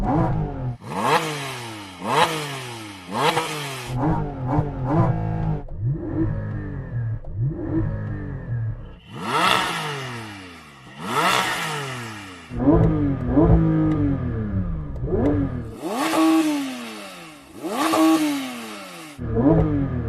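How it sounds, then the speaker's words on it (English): Porsche GT3 engine revved hard while held on the brake at launch, repeated loud rising and falling revs in quick bursts with short pauses, close and alone. "And then rev your engine, and then you'll be able to rev to about 6."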